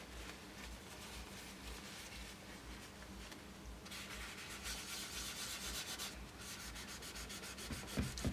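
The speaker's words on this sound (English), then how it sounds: "So I'm just going to rub with the tissue." A tissue rubs across a drawing of white fur, giving a continuous soft, dry scraping that stays close and even, with brief louder strokes near the end and no voices.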